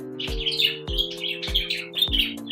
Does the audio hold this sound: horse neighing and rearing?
no